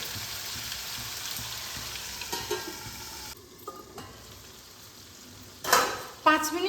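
Snake gourd with potato and egg cooks in a covered pan, giving a soft, steady sizzle that thins out midway before a couple of sharp clattering knocks near the end.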